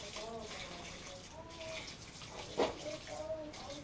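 Water pours from a pitcher into a homemade worm bin for compost, a steady trickling splash that swells briefly near the end, with a low voice talking underneath.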